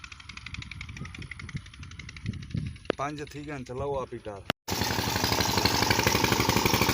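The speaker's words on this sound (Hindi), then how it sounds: "रोज़ाना की तरह ट्यूबवेल चल चुका है" A village tubewell pump runs with a steady mechanical drone, while a voice talks briefly midway; then a louder, dense, continuous rush of machine and water noise takes over near the end.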